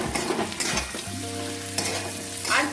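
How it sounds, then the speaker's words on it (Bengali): Fried fish pieces stirred into frying eggplant and potato in a pan, a loud close sizzle with scraping stir strokes; a steady tonal hum runs underneath for part of it. "এবার ভেজে রাখা মাছটা অ্যাড করছি"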